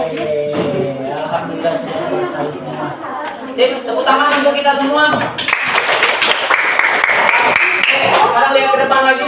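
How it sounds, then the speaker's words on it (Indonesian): Children in a classroom break into applause near the end of a sixth-grade maths lesson, a burst of clapping mixed with chatter and excited voices, close and fairly loud across the room. "Sip, tepuk tangan untuk kita semua."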